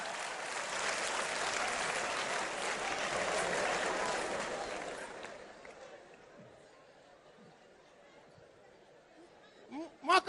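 Audience applause at a live comedy show in Bamako, a dense wash of clapping that fades out after about five seconds, leaving a quiet room with a few scattered sounds.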